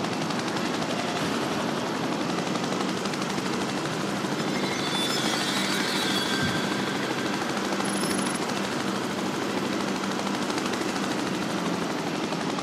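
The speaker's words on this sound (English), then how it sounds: "We are actually flying it in a helicopter." Helicopter flight in the video game Prototype, with possible gunfire. A steady, dense rotor-and-engine drone holds at an even loudness throughout, with a faint metallic rattle in the middle.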